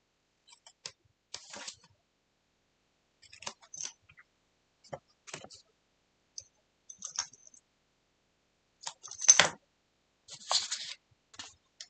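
Paper being trimmed for a stamping craft project, a series of short, dry cutting swipes and clicks in irregular bursts separated by quiet gaps, close and moderately loud.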